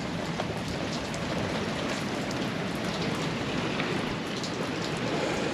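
Heavy rain pours steadily during a storm in the Bahamas, a dense, continuous hiss of downpour that stays loud and even throughout with no voices.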